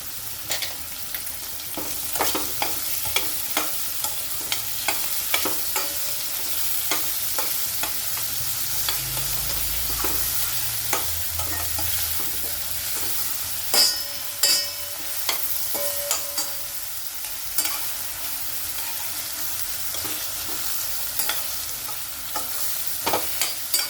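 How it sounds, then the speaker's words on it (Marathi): Onions sautéing with a pinch of salt in a pan for chole masala give a steady close sizzle, broken by frequent scraping and tapping of a stirring spoon. "आता कांद्याला आपण परतून घेऊ कांद्यामध्ये ना थोडंसं मीठ टाकते"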